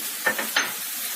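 Onions hit a hot frying pan with a couple of quick bursts of sizzling, then a soft steady crackle of frying continues.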